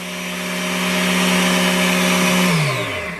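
A small electric motor drives a Dremel-based high-speed bench drill with crude speed control. It holds a loud, steady whine, then its pitch slides downward as it slows, with no one talking.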